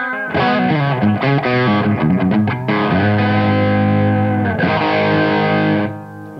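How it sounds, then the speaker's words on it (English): Overdriven electric guitar through an Eventide H90 pedal plays a quick run of notes, then rings out with sustained, gritty distorted chords, loud and close. "Let's add a bit more drive."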